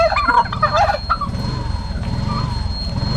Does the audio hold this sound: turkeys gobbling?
yes